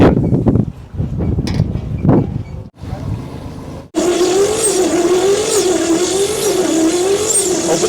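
Engine of an abandoned 1959 Chevy pickup cranking, then catching and running steadily with the throttle held open, a loud sustained drone with a clear tonal hum after a brief pause from sputtering, uneven cranking bursts.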